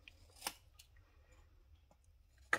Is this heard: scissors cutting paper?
yes